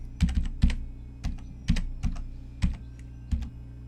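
A new password is typed on a computer keyboard in about eight crisp keystrokes, irregularly spaced and close, with quiet room tone between them and no talking.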